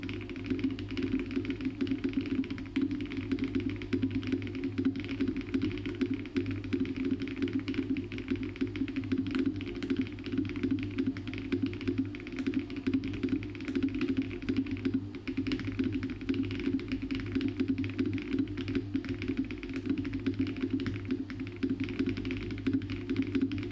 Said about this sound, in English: I like my keyboard.